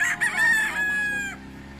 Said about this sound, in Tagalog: Meron palang manok na hahabol.